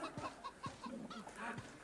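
Chickens in a WebGL ASM.js video game give a quick run of soft clucks, several short clucking calls in an uneven rhythm, faint and close, with no talking.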